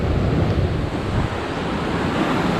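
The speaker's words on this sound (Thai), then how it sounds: "ลมสวยมาก" Strong wind gusts by the sea with surf rumbling underneath, a steady, loud broadband roar buffeting the microphone, with no voices.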